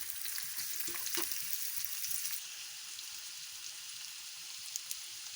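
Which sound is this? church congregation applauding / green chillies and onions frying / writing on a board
green chillies and onions frying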